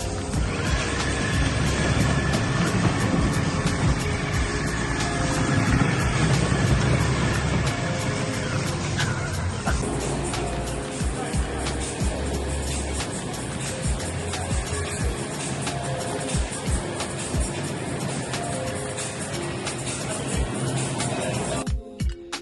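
A Ferrari built as a drift car runs with a loud, sustained engine roar and broadband tire and exhaust noise, swelling and easing over about twenty seconds before cutting off with a few sharp bursts at the end.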